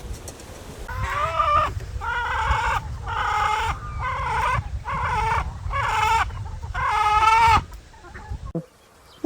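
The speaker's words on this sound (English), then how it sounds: "we've got one of the hens behind us starting to make the call" A hen gives her loud pre-laying call, a series of about seven rhythmic, drawn-out squawking clucks close by, repeated steadily with a low outdoor rumble underneath.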